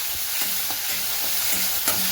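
Grated tomato fries with cumin in a pan, giving a steady, close hissing sizzle broken by regular scraping strokes of stirring, with no voices.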